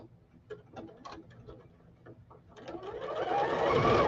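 A sewing machine running a basting stitch: a few slow, separate stitch taps, then the motor speeds into a continuous, rising whir close by, with no talking.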